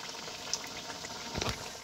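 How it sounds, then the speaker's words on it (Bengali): Kolkata-style chicken cutlets fry in oil over a medium flame and are turned over. A continuous bubbling hiss holds steady, with a brief louder surge toward the end. "এরকম উলট পালট করে আমি প্রত্যেকটা কাটলেটকে ভালোভাবে মিডিয়াম ফ্লেমে ভেজে নেব।"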